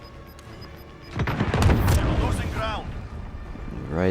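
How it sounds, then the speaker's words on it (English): An RPG shot from a rooftop in the shooter game Warzone: a heavy booming blast with a rumbling tail lasting a few seconds, fairly loud, followed by softer tonal game sounds. "RPG that shot down from the roof gave me huge intel"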